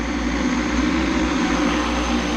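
An agricultural drone flying off toward its starting point at the start of a crop-spraying season, a loud, steady, close rotor drone and whine that holds constant throughout, with no voices.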